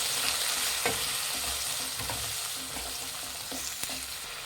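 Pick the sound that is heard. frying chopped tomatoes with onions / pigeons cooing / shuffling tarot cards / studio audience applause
frying chopped tomatoes with onions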